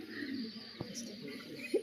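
Domestic pigeons coo softly, with a brief low coo near the end amid faint background noise and a single small tap.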